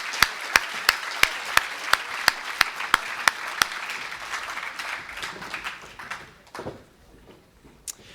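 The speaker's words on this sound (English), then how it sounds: "Let's please give all of them a round of applause." A convention audience at the 2017 Minnesota State FFA Convention applauds FFA chapters. Sustained crowd clapping with sharp, evenly spaced claps standing out early on, thinning and fading toward the end.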